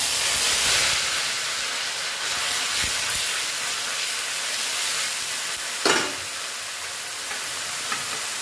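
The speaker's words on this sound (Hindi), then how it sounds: "कनी सारी ब्राउन होते ताबे तक एकरा भूजब।" Ground onion with ginger-garlic paste fries in a pan until browning, a steady loud hiss and sizzle close by, with a brief stirring knock partway through.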